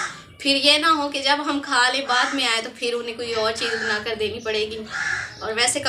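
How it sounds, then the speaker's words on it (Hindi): A crow caws repeatedly outside a village home, the calls sitting behind someone talking steadily in the foreground. "बाहर कौवे की बहुत ज़्यादा आवाज़ आ रही है"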